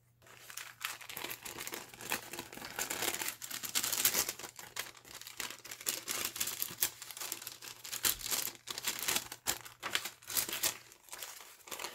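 Pages of a handmade woodland fairy journal with stitching, trim and cards are flipped and handled, making continuous papery crinkling, rustling and soft flapping, fairly close and uneven in rhythm, with no talking.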